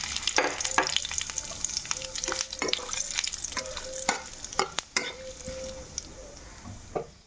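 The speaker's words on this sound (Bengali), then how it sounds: "তেলটা একটু জাস্ট গরম হলে পরে আমি ফোড়নটা দিয়ে দিচ্ছি, তেজপাতা, জিরে, শুকনো লঙ্কা।" Bay leaf, cumin and dried chili crackle in hot mustard oil in a pan, a dense steady sizzle broken by sharp spattering pops and scraping stirs, close and fairly loud with no talk.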